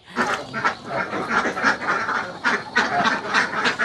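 Laying ducks on a farm quack continuously in a dense, overlapping chorus, loud and close, with the flock calling over one another throughout.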